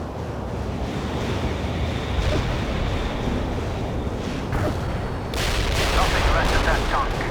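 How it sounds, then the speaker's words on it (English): An artillery barrage in the video game World in Conflict plays as a dense, roaring rumble of explosions, with a louder burst of blasts and debris near the end. "Artillery shells delivered on the mark."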